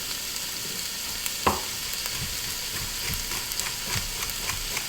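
Vegetables, with celery to follow, caramelizing in a pan for a vegetarian chili give a steady, fairly quiet frying sizzle, with scattered pops and the scrape of stirring coming through now and then.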